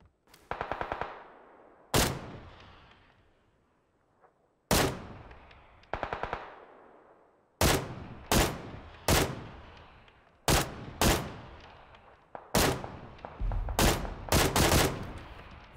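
Gunfire in the video game PUBG on Xbox One X: loud, sharp single shots and quick double and triple bursts with ringing tails, spaced irregularly across the stretch and heard alone.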